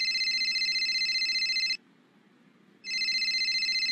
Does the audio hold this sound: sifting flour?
no